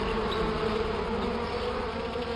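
Steady, dense buzzing of bees fills the scene, a continuous drone at even loudness with no voices.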